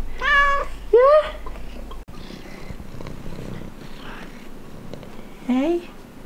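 Lupin, a pet cat, gives several rising meows near the start and again at the end, with a soft low purr running between them and a person talking quietly nearby.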